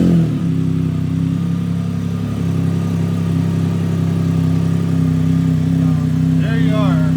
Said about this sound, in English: you got to start the bike.